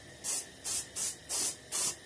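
Paint sprayed onto a skin-mounted bluegill fish in six short, even hissing bursts, close and fairly loud, with brief gaps between them.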